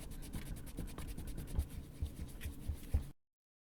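A Prismacolor Col-erase coloured pencil mark is rubbed out on paper with quick back-and-forth scrubbing strokes. The strokes are close and fairly quiet, with soft thumps at the end of some passes, and the sound stops abruptly.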